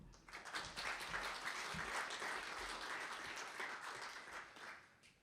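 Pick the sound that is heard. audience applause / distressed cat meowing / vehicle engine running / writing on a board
audience applause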